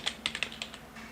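Quick keystrokes on a computer keyboard, about seven crisp clicks in an uneven burst, close and fairly quiet, with no speech.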